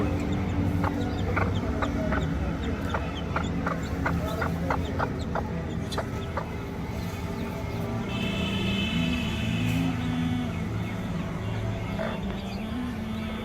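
A hen clucks softly near her day-old chicks, with short repeated clucks and faint high peeps over steady background noise on a home poultry setup.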